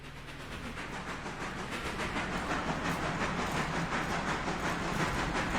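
In the railroad game Railroader, engine number 3 pulls a caboose at about 15 miles an hour, making a continuous, close rolling rumble with rhythmic clacking and hiss that builds slightly, with no talking.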